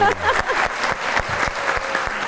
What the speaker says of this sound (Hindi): एक बार मियाँ वाली के लोगों के लिए तालियां होनी चाहिए।